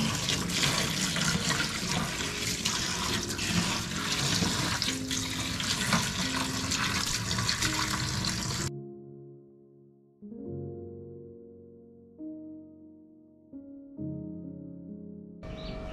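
Small shrimp from the market are rinsed under a running kitchen tap. The water gushes loudly and steadily for about nine seconds, then cuts off, leaving only faint, quieter clinks and tones.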